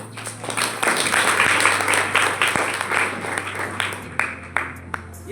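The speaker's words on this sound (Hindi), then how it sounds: "ये ताली जो आप बजाती है" A church congregation claps hands together during a sermon, a steady dense patter of many palms close by that carries on for several seconds with a few sharper individual claps standing out.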